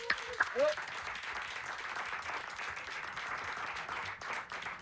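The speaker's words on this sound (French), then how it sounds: "Pouvez vous applaudir? Applaudissez." Festival crowd applauding at Hellfest, a broad, sustained roar of distant clapping filling the space, with a brief voice at the start.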